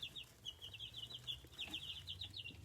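Backyard chickens clucking steadily, a busy run of overlapping calls close by with no talking.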